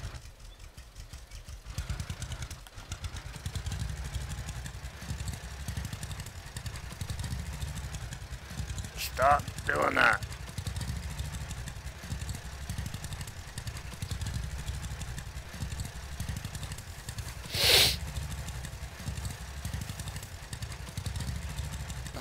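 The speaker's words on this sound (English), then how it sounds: "a real tractor is not going to throw you around like this" Tractor engine in the farming video game Farmers Dynasty, a steady low mid-pitched drone with faint clatter running throughout, a few brief knocks and bumps over it and a short spoken line.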